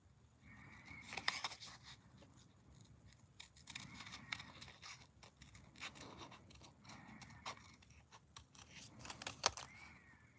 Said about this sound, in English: if you do cut butterflies out, it doesn't matter if you snip the wings off too much